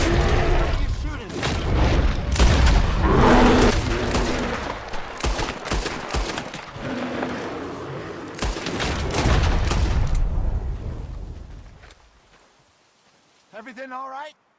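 Gunfire from the video game Red Dead Redemption 2, with rapid bursts and heavy booming shots in dense, loud volleys over about ten seconds. Game voices talk underneath, then everything drops to near silence before a brief sound at the end.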